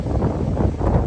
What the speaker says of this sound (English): Very windy, seems like it's about to